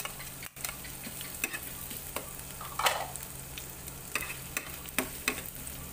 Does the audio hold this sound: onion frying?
yes